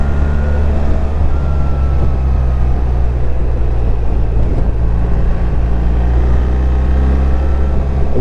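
A BMW R1300 GS Adventure Triple Black motorcycle ridden through twisty roads in D mode with gear shifts, its engine giving a loud, continuous drone over heavy wind and road noise.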